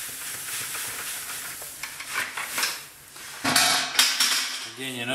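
Brewing grains stirred into hot strike water with a paddle during a gradual dough-in, close scraping and sloshing strokes with clinks against the pot, under a voice.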